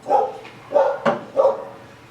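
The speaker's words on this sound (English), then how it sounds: "Isn't it great when there's dogs barking?" Dogs bark a few times in an uneven sequence, sharp and fairly close, with short gaps between the barks and no talking.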